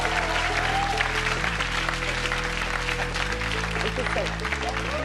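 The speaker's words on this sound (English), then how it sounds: "Big round of applause, guys." An audience at an awards event claps loudly and steadily over music with a strong steady bass, and brief voices are heard within the applause.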